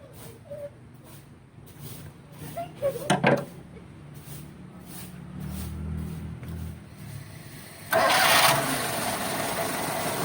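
A car engine cranks and catches after its PCV breather has been cleaned, with a few clicks and short bursts before starting, then a steady idle that grows louder near the end, close by.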